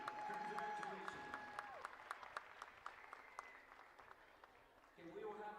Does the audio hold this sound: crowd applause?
yes